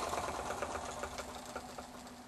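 A single-pulse motor whirs on a prony brake test rig as it runs down, giving a faint, fast, even mechanical buzz with rapid periodic ticking, steady and close throughout.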